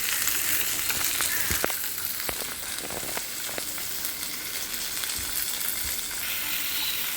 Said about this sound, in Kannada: ಅಲ್ಲಂ ಹಾಕ್ಕೊಂಡು ಒಂದಿಷ್ಟು ಬೆಳ್ಳುಳ್ಳಿ, ಅದರ ಜೊತೆಗೆ ಅದು ಎಲ್ಲ ಸ್ವಲ್ಪ ಫ್ರೈ ಮಾಡ್ಕೊಳ್ಳಿ